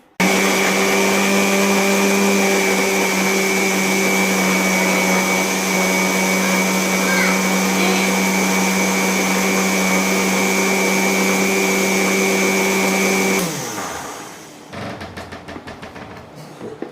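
A mixer grinder whirs loudly and steadily while grinding ginger into a paste in a home kitchen, its motor holding a constant pitch for about thirteen seconds before switching off and spinning down to a few faint clicks.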